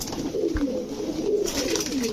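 Large pigeons of breeds like Lalpatti, Pankhi, Chila and Gorra, offered for sale, coo continuously and close by in low, rolling, overlapping calls.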